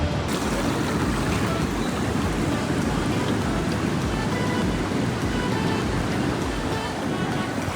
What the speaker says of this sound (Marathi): लाटांचा आवाज खूप येतोय मागून